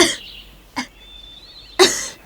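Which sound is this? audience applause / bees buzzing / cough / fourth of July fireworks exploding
cough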